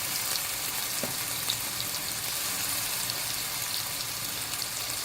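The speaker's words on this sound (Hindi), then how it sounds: "इसके अंदर प्याज, ये 3 से 4 प्याज है, इसको अच्छे से फ्राई करना है।" Three to four onions frying in a pan for masala keema, a continuous even sizzle with scattered tiny crackles, close but low in level and without speech.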